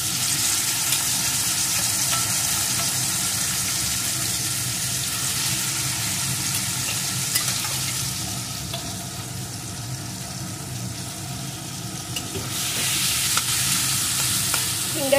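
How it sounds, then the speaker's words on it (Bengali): Small prawns coated in salt and turmeric frying in oil, a close, steady hissing sizzle with stirring movements over fifteen seconds, swelling slightly near the end, no talking. "এখন আমি এই তেলের ভিতরে কিছুটা পরিমাণ ছোট চিংড়ি ভেজে নেব।"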